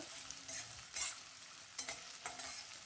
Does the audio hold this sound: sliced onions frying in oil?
yes